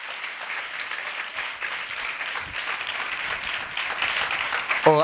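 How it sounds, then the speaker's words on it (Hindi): Congregation applauding during a Hindi Christian sermon, sustained steady clapping throughout, fairly even in loudness and swelling slightly toward the end. "ताली बजाइए"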